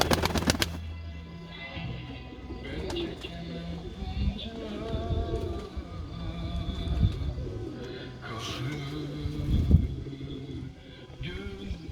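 Bediş pigeons cooing in a loft, soft repeated low coos and occasional chirps at moderate distance, with a brief loud burst at the start and scattered knocks and rustles.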